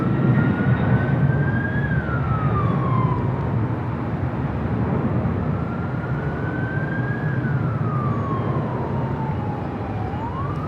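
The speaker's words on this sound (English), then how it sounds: "Northern Air Cargo, a converted 767, taking off on 25 right there on the south side." A Northern Air Cargo converted Boeing 767 takes off from runway 25 at Los Angeles with a loud, sustained engine roar, while a wailing emergency siren rises and falls over it.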